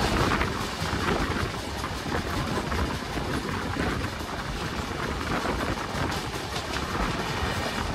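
A passenger train carries travellers toward Contai, its steady rumble and rattle running continuously and fairly loud, with no voices on board.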